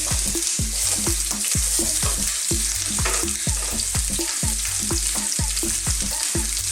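Sliced onions fry in olive oil in a pan with a steady loud sizzle, punctuated by regular rhythmic scrapes of a spoon stirring roughly every half second, no voices.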